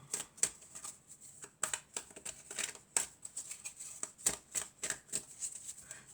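Tarot cards being shuffled and drawn by hand: a run of crisp, close papery riffles and flicks in an uneven rhythm, fairly loud and without speech.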